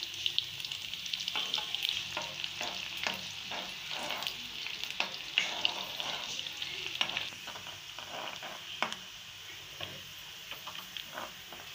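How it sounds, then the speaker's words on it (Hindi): Onion, peppercorns and garlic fry in hot oil and ghee for masala khichdi, a soft continuous sizzle with scattered crackles and stirring clicks, fairly quiet and close, no talking. "अब हम इसमें प्याज शामिल कर देंगे, गोल मिर्च डाल देंगे और लहसुन डाल देंगे।"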